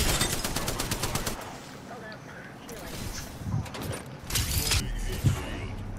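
A PK shotgun fires in a video game, starting with a quick run of closely spaced shots and then breaking into scattered bursts and clanks over busy game noise.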